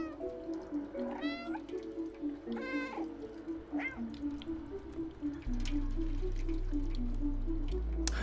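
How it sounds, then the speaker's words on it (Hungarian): A cat meows repeatedly in the video game Stray, several clear close meows over a looping tonal game background that shifts to a louder low hum partway through. "Lehet nyávogni a B-vel."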